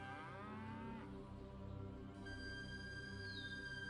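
Cattle low and moo at a cattle ranch in the city-building game Pharaoh, a steady, drawn-out bovine call over soft ambient game music, with no talking.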